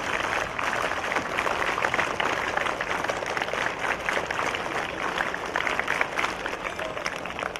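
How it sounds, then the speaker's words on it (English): A round of applause from a group of students at a school Independence Day celebration, dense steady clapping from many hands sustained at even loudness for the whole span, fairly close and without talk. "Can we give one round of applause?"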